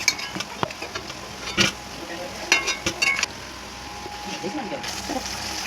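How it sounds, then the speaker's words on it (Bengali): Mutton being stir-fried in a pan for a spicy kosha, with a soft sizzle and scraping, clinking strokes of a spatula against the metal, irregular and close, while a person talks. "আমি মাংসটা এখন কষিয়ে নিব।"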